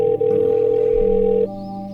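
A steady telephone dial tone hums continuously while a call is being placed on a livestream, loud and close, its pitch shifting partway through before dropping to a quieter tone near the end.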